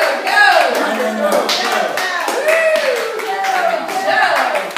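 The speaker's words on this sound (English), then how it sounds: "Let's all give Tracy a round of applause." A small group at home claps for Tracy after an exercise routine. The clapping is steady and close, mixed with cheering voices and chatter throughout.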